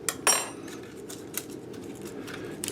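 Metal spoons clink and rattle as they are picked up and handled, with a bright sharp clatter at the start followed by lighter scattered chinks, quiet and close.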